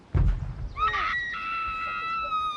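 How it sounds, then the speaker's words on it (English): A woman screams in a high, wavering wail that drops away to faint distant tones after a low thud at the start. "Arthur Keeping hears a scream"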